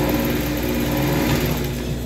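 A sewing machine runs in a steady, close, continuous drone while stitching the ruffle of a child's dress, with no talking.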